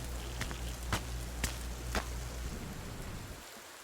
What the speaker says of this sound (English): It is now raining